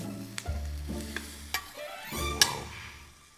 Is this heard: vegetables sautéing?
yes